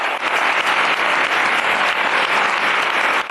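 Thick, sustained applause from a large audience, a loud continuous roar of many hands clapping together without pause.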